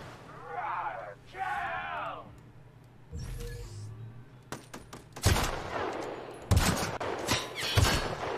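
Gunfire in The Outer Worlds, several sharp shot bursts in the second half of the clip, clustered and loud, following a stretch of talk by a player and quieter game sounds.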